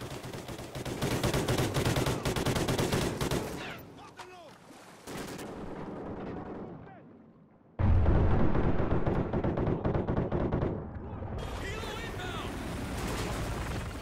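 Muffled underwater gunfire from special underwater guns in Call of Duty Ghosts, loud dense bursts with a quieter stretch in the middle, then another heavy volley under sustained murky rumble and bubbling.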